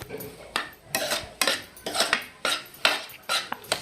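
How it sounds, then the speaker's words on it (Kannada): A spoon stirs chili powder into egg paratha filling in a bowl, giving close, rhythmic metallic clinks and scrapes against the dish, about ten strokes in a steady beat. "ಒಂದು ಸ್ಪೂನ್ ಅಷ್ಟು ಖಾರ ಹಾಕೊಳತೀನಿ ನಾನು ನಮ್ಮದು ಖಾರ ಭಾಳ ಇರ್ತದೆ ನೋಡಿ ಮತ್ತೆ ಹಾಕೊಬೇಕು ಅದನ್ನ ಮಿಕ್ಸ್ ಮಾಡ್ಕೊಂಡ್ಬಿಡ್ತೇನೆ"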